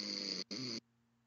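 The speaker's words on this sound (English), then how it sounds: "He was snoring." A person snoring during a call: two loud, raspy snore bursts in quick succession, the first longer, separated by a brief gap, then quiet with a steady low hum.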